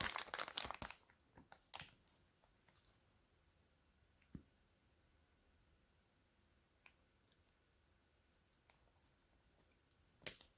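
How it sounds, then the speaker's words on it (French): Plastic packaging of Nerf darts crinkles and crackles loudly at first, then gives way to sparse, faint clicks and rustles with long quiet gaps. "On va voir tout ça, on va faire l'unboxing du packaging."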